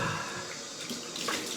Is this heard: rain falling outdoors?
no